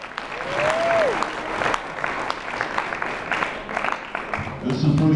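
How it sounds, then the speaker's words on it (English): At a senior football banquet, an Ironman Award presentation draws steady applause from a room full of people, sustained clapping across the whole stretch with a brief whistle near the start and a crowd murmuring underneath. "Go ahead and applause."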